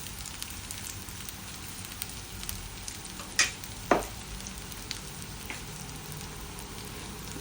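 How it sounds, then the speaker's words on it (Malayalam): Beetroot vegetable cutlets fry in hot oil in a pan with a steady, close crackling sizzle throughout, broken by two brief sharper clatters midway. "ഓരോ ഭാഗം 5 മിനിറ്റ് വീതം നല്ല മുരിഞ്ഞ് വരുന്നവരെ നന്നായിട്ട് പൊരിക്കുക"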